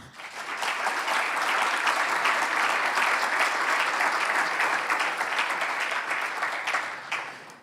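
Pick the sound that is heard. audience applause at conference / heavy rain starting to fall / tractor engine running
audience applause at conference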